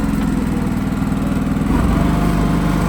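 Steady small-engine drone of a riding mower with its lowered, freshly rebuilt John Deere 60-inch deck engaged, loud and close, rising slightly in pitch and load partway through.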